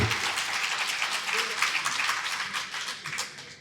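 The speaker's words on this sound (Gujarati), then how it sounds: "આપણા બધાને જોરદાર તાળીઓ." An audience at a convention of teacher-training colleges claps vigorously, a dense and steady round of applause that stays close and loud throughout and eases slightly toward the end.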